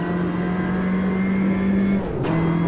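A Ginetta G40 race car in the Automobilista 2 racing game holds a loud, steady engine drone close up. The engine pitch drops abruptly with a quick gearshift near the end, then it pulls on again.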